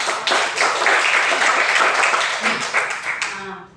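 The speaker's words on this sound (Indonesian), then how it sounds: "Tepuk tangan dulu." A school class claps for a classmate, a burst of steady clapping that fades out near the end, with chatter faintly mixed in.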